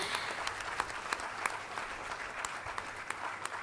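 Steady round of applause at the AIBT campus graduation ceremony, fairly quiet and even, with individual claps popping through a continuous patter.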